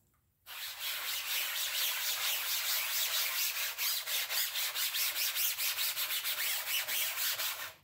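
A stiff scrub brush scrubs a screen-printing screen lathered with Dawn dish soap for degreasing. It makes close, loud, steady rubbing with quick back-and-forth strokes that begin after a brief silence and continue without talk.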